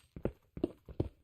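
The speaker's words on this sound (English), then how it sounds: "I hear a horse." Horse hooves clop in a survival video game, three distinct, evenly spaced hoof falls, soft and a little distant.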